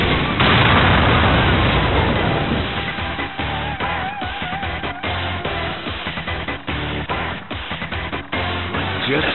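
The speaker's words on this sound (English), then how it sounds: "It's an explosion!" A big explosion in the Naruto Clash of Ninja Revolution 3 video game bursts loudly, then rolls into a long rumbling series of crackling blasts and booms that gradually thin out.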